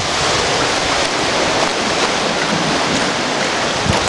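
Rushing, splashing seawater flies over a reef on the Ka'ena Trail, with a steady roar of surf and wind, loud and close, continuous throughout.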